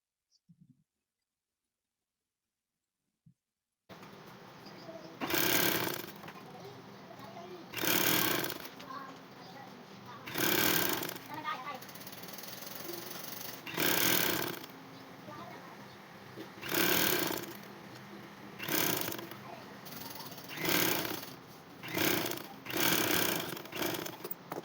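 A sewing machine stitches lace trim onto a kurti fabric panel in repeated short whirring bursts with brief pauses between them, after a nearly silent opening.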